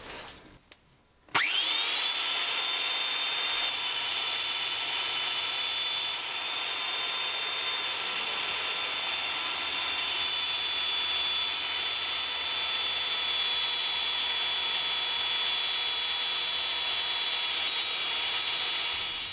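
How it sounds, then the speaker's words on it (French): A belt sander starts up abruptly and runs continuously on wood, a steady high whine and gritty rasp close by with no pauses. "Je vais passer à l'étape de ponçage, donc grâce à ma ponceuse à bande"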